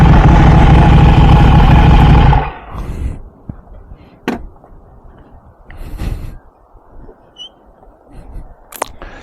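A Ducati V4 S motorcycle with full carbon bodywork runs loudly and steadily for a couple of seconds, then cuts out, leaving quiet background with a few faint clicks and knocks.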